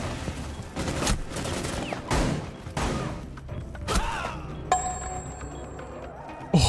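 Shotgun blasts in the video game Rainbow Six Siege: several heavy, booming shots spaced about a second apart, close and loud, mixed with scattered impacts and game noise.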